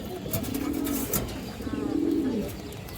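Two drawn-out, rolling coos come from pigeons, including an old-breed red Chulli hen, each call swelling and fading over a couple of seconds, close and clear with a faint background hum.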